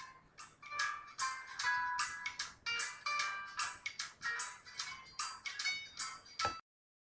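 A phone ringing on an outgoing call in a Tamil short film, a repeated bright electronic ringtone pattern playing alone for several seconds before cutting off abruptly.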